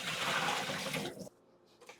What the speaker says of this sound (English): Wash inside of the guts as well.